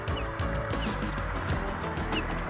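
Cranes call outdoors on a summer day, loud repeated honking cries from a flock, with swans passing overhead and steady background noise.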